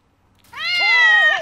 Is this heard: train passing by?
no